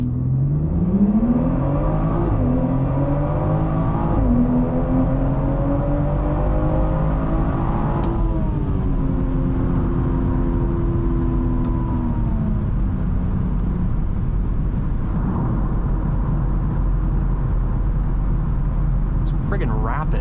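A BMW 440i Gran Coupe with a 355-horsepower engine launches hard from launch control, the engine note rising steadily through rapid upshifts with loud, close, continuous acceleration that fades into sustained road roar.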